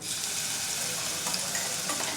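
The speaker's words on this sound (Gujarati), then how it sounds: "તેલ ગરમ થઈ ગયું છે મસાલો ઉમેરી દઈશું" Green spice paste spitting and sizzling in hot oil for papad and puffed-rice chevdo, a dense, even hiss with occasional stirring scrapes, quiet and close, with no talking.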